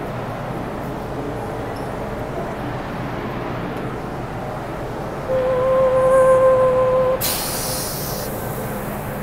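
Steady rumble and hiss of a Hong Kong MTR Island Line train running underground, with a tonal hum rising midway and a brighter burst of high noise near the end, no voices.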